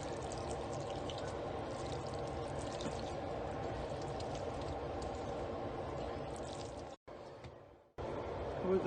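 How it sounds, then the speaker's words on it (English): Thick homemade mac and cheese poured into a pan, a steady soft pouring and sloshing sound lasting several seconds that cuts out briefly near the end. "we're going to pour half of the mac and cheese inside the pan."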